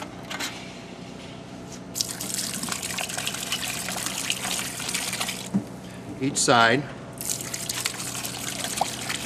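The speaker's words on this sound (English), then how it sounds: "take xylene and pour the xylene into the tanks" Xylene is poured into pump tanks during cleaning, a steady splashing trickle with gurgles running through the whole stretch while someone talks over it.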